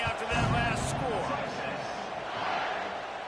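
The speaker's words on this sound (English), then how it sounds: "this crowd is buzzing after that last score" A stadium crowd in a college football video game buzzes after a score, a dense, steady roar with a commentator talking over it.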